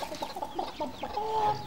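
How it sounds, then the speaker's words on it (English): Chickens being fed grain cluck in short, repeated calls close by, with one longer drawn-out squawk near the end and no talking. "Right then, Sooty, let's feed these chickens now."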